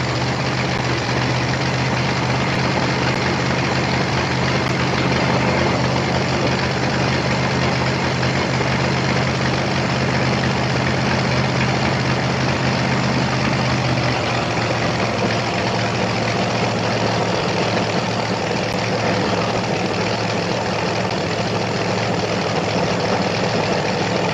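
A junior fuel drag racing car at the 1994 Hot Rod Reunion in Bakersfield, California idles with a steady, loud, low rumble, holding a constant throb for the full stretch with no talk over it.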